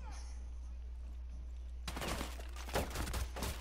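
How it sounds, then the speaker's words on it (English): Rainbow Six Siege gunfire starts partway through as a dense burst of shots, a loud rapid fusillade over a low steady hum. Quiet game ambience comes before it. "You shot the railing again and all the books."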